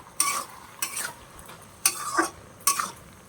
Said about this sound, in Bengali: এবার এটাকে আমি ভালো করে নাড়াচাড়া দিয়ে দেবো।